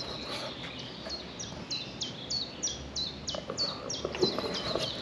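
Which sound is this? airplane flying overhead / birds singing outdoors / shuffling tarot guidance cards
birds singing outdoors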